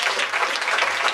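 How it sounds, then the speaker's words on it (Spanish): Brief burst of dense audience applause at a ninth-grade graduation ceremony, many hands clapping steadily and close for just over a second. "Va a ser uno, un esfuerzo grandote, un aplauso"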